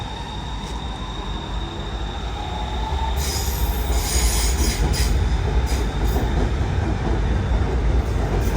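A train rolls past close by with a steady rumble near a Thai railway station, and a high metallic wheel squeal rises on the curve and holds over the continuous rail noise.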